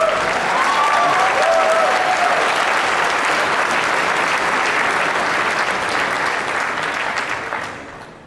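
A large convention audience at PAX East 2011 bursts into sustained applause during a game presentation, dense steady clapping from many hands that holds loud for several seconds before tapering off at the end.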